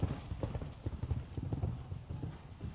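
A horse's hooves thud and clop across the ground after jumping an obstacle, an uneven, close run of strikes with no talk.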